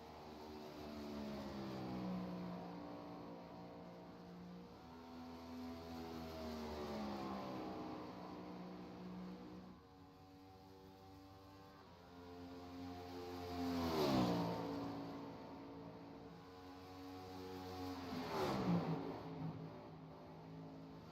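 Race car engine at Kansas Speedway pulling out of pit lane, a continuous harmonic drone with rising revs and two loud acceleration surges near the end, heard alone without talk.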